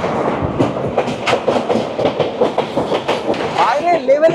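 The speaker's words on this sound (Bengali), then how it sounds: "ছেড়ে দিল আমাদের ট্রেন কলকাতা স্টেশন।" A passenger train departing Kolkata station on the route to Prayagraj, loud rhythmic clickety-clack of wheels over rail joints heard from on board, with a rising squeal near the end.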